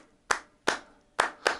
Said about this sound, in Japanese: 多分お客さんに手拍子させるのに